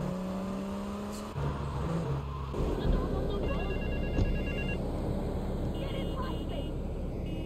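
A payphone rings with short repeated electronic trills in Grand Theft Auto III, heard over loud car engine and traffic noise in the city.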